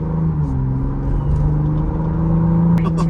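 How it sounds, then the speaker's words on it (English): A Ford Bronco Raptor's exhaust in Baja mode gives a deep, steady low rumble at idle or cruise, heard from close inside, with a brief rise near the end. "the exhaust right now is in Baja mode"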